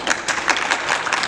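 Comic-con audience applauding in a vote for Captain America camp: a brief, dense burst of clapping from a crowd, steady and fairly loud without a clear fade.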